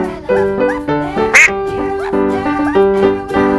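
A cartoon-style duck quacks in a quick run of loud, bright, nasal calls with a short high squeak in the middle, part of a children's farm-animal learning game and heard alone without talk.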